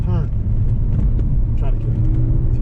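Car engine pulling hard through an autocross run, a steady loud drone with rising revs, while an instructor's voice talks over it.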